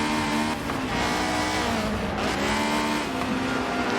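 Race car engines in Forza Motorsport 7 during a sprint race at Dubai International, an onboard Honda droning loud and close at sustained high revs with slight pitch shifts as it runs in traffic.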